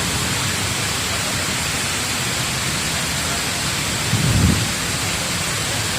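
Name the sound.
waterfall pouring down from a mountain in Fujairah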